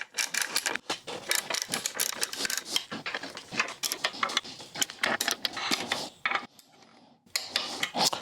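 Rhythmic rasping and clicking as a torque wrench tightens the bolts of a Givi motorcycle rack, repeated close strokes with brief pauses, fairly quiet, no talk.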